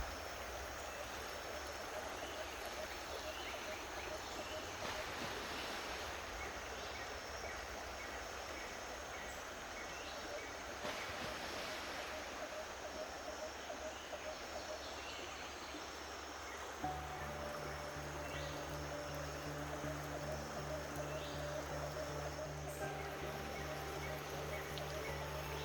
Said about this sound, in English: you can hear this water